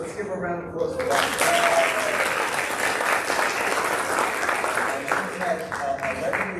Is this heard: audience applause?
yes